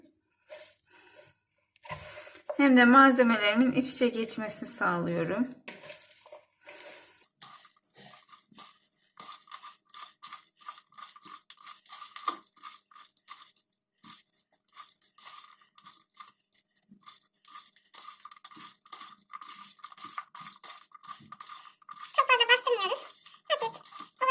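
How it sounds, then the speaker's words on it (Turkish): Shredded purple cabbage is kneaded and squeezed by hand for salad, giving faint, close crunchy, squelchy rustles that run steadily, with someone talking at the start and again near the end. "hafif yoğurarak karıştırdım. Bu şekilde suyunu da çıkardı."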